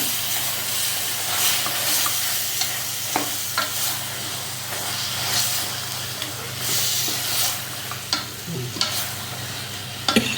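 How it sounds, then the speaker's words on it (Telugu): Three quarters of a kilo of mutton sizzles steadily in a hot pot for bone soup, a continuous frying hiss broken by occasional scrapes and clinks of stirring, with no voices. "ఈ 3/4 kg మటన్ ఇది వేసుకుని"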